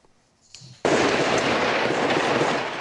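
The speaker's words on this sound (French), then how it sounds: "Le bruit des balles est très présent." Dense gunfire erupts during a police assault on a building in Toulouse, heard from a neighbouring apartment block: after a couple of faint pops, a loud continuous burst of rapid shots rattles on for about two seconds.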